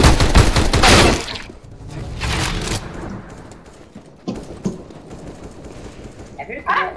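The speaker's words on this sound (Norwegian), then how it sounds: "Jeg hører liksom skudd som pang." Rapid gunfire from an online shooter game being played, loud bursts at the start and again around two seconds, then quieter scattered shots and thuds, with players talking throughout.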